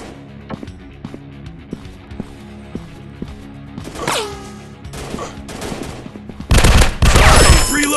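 Gunfire in the mobile robot shooter Robot FPS Shooting Strike, starting as a spaced series of sharp single shots and swelling into a loud, dense burst of rapid fire near the end.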